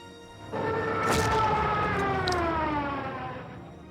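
A Stuka dive bomber's siren wails in a WWII strategy game, a rising and slowly falling mechanical scream that swells from the quiet, holds loud for a few seconds with a thud near its start, then fades.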